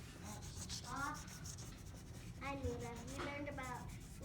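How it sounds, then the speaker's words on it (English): A finger rubs chalk into a bunny drawing on paper, making soft, close scratchy strokes in short bursts, with a few louder rubs near the end. "I color very lightly with the chalk, and then look, you just rub it"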